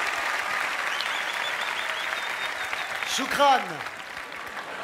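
Audience applause for a comedian on stage, steady clapping throughout with someone briefly speaking over it partway through.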